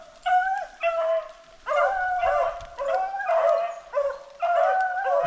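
Several hunting dogs bark and bay outdoors, their calls overlapping in repeated bursts, loud and fairly near, with howling, drawn-out tones and no talking.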